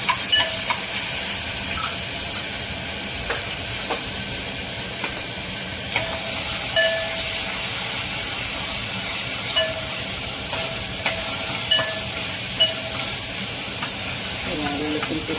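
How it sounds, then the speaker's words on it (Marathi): Ginger garlic paste frying in a pan for a fish curry, with a steady sizzling hiss and occasional scraping stirs from a utensil, continuous and moderately close. "आलं लसूण पेस्ट चांगली शिजली."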